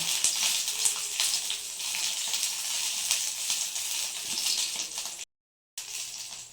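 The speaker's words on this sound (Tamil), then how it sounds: "பச்சை மிளகாயை போடுறேன், கொஞ்சமாக எண்ணெய் விட்டுருக்கேன்." Green chillies frying in a little oil in a pan give a steady, close hiss of sizzling that carries on without pause, drops out briefly near the end, then resumes.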